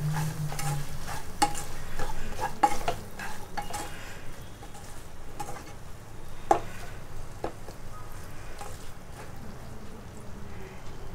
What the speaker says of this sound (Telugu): ఇలా కొత్తిమీర వేసుకొని ఒకసారి ఇలా కలుపుకోవాలి